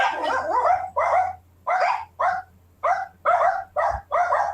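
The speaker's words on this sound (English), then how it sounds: "like even the dog barking is fake." A dog barks eight times in quick, sharp bursts, close and fairly loud, over a low steady hum.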